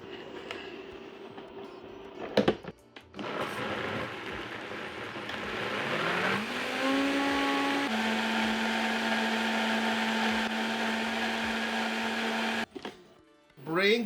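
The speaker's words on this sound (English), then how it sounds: "So if I can do this in one shot into the blender, scrape this pan clean." A kitchen blender purees butter chicken sauce, first a short burst, then a pause, and then the motor revs up into a long, loud, steady whine before cutting off abruptly.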